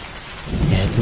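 Heavy rain from a Bengali cartoon horror story, a loud steady downpour with a low thunder rumble swelling through the second half, no voices.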